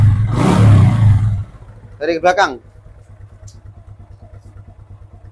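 A motorcycle engine idles with a steady low rumble, briefly roaring louder at the start, while a person speaks nearby.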